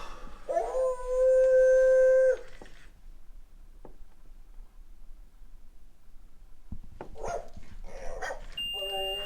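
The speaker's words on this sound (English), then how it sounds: "that freaking dog" A dog howls loudly and steadily for a couple of seconds in an indoor hallway of an old manor, followed by quiet and then scattered bumps and voices talking nearby.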